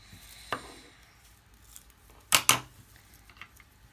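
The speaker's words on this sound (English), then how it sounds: "Now you're going to cut off the ends." Scissors snip off the ends of clear tape on a handmade bookmark: a light click early on, then two quick, crisp cuts close to the microphone, with soft handling noises in between.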